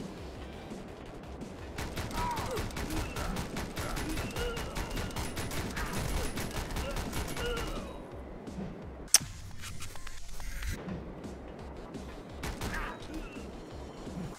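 Gunfire in the video game Speed Limit comes as dense, rapid bursts over a busy game soundtrack. A sudden sharp crack cuts through after the main volley, then scattered shots follow more quietly.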